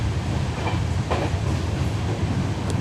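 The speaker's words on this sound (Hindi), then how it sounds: "यहाँ पर ज़बरदस्त धुआं करते हुए हमारी ट्रेन बढ़ रही है मोहन नगर रेलवे स्टेशन की तरफ" A diesel train runs along a railway main line near Mohan Nagar station, sending up heavy smoke. A steady, broad rumble of rolling wagons and engine noise carries on without a break, close and loud, with no voices.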